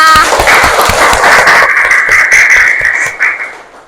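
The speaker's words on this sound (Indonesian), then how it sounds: "Oke, tepuk tangan untuk kita semua" Children in a classroom clap together in a burst of quick, uneven hand claps, loud and close, thinning out toward the end.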